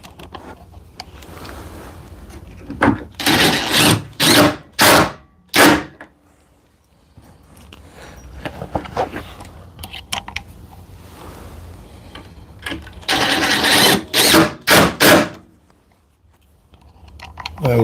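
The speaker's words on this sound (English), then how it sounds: "And then I can drive these screws back in." A power tool drives screws back in during carpentry work. It sounds as two clusters of short, loud, close whirring bursts separated by quieter pauses.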